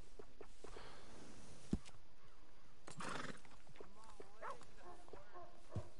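A horse in the Western video game Red Dead Redemption 2 whinnies a few times over a steady ambient bed, with faint hoof clops and a low background hum, no voices present.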